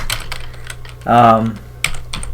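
Quick clicks on a computer keyboard, close and crisp, in short bursts before and after a brief spoken phrase.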